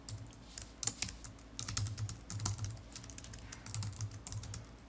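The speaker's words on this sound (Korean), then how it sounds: "제가 한번 Ctrl Shift H를 눌러볼게요" Quiet, close computer keyboard keystrokes tap in irregular clusters, a few sharper clicks among softer presses, with no talking.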